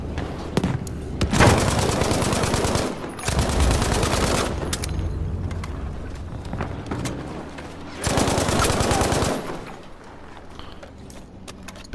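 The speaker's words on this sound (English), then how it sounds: "I want to spawn straight in the action with him and start firing" Gunfire in the video game Battlefield 5, coming in three long bursts of rapid automatic fire with quieter stretches of battle noise between them, loud and close.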